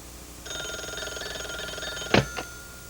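An old-style telephone bell rings in one sustained burst, bright and close, then cuts off with a sharp clunk and a second smaller knock as the handset is lifted.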